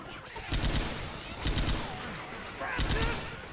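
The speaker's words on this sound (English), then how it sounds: "Oh, machine gun!" Three loud bursts of rapid automatic machine gun fire in Left 4 Dead 2, each lasting about a third of a second, evenly spaced over a few seconds against background game noise.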